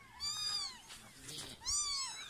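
Several cats meow in high, bending cries, one call near the start and another about a second and a half later, with quieter noise and faint voices between, inside an old traditional house.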